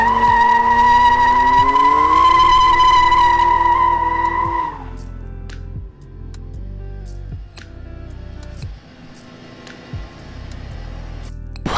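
BMW E36 M3 with 221k miles, driven hard on a back road: a loud, sustained tire squeal rings for about five seconds, then gives way to engine revving and rolling noise with shorter tire chirps.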